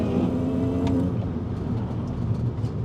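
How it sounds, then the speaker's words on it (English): A 2000s Mini Cooper S R53 drives briskly along a twisting road, its engine a steady close drone with road roar beneath, holding a constant level throughout. "Let's go and have a bit of a spirited drive through and see what the go-kart like handling is"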